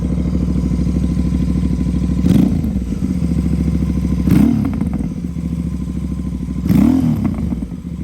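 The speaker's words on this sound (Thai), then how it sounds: "เดี๋ยวจะลองเบิ้ลให้ฟังนะครับ" A 2019 Royal Enfield GT650 motorcycle with an aftermarket exhaust idles steadily, then revs sharply three times in short bursts, loud and close, each rev dropping back to idle.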